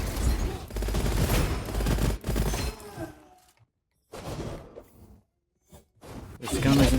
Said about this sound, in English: I'm not used to this microburst gun.